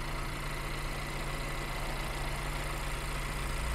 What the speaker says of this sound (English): And you almost don't know the engine's running